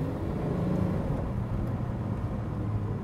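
A Lamborghini Aventador engine gives a steady, loud, deep rumble that stays fairly even for about three seconds, with no voices over it.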